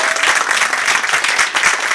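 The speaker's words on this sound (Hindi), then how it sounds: "एक बार जोरदार तालियां हो जाएं सर के लिए।" Enthusiastic audience applause at an acting-school event honouring an acting teacher, a dense, loud, sustained wash of many hands clapping together with no break.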